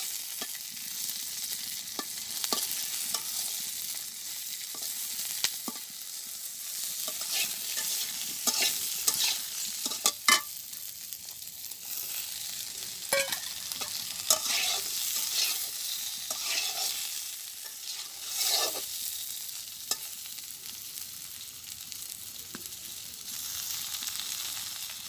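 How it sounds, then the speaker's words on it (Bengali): Green chilies fry lightly in a pan while being stirred slowly, making a soft, continuous sizzle with scattered crackles and occasional utensil clicks for about twenty-five seconds, fairly quiet and close. "আস্তে আস্তে মরিচ কটা ভেজে রাখি, হালকা ভাজবো"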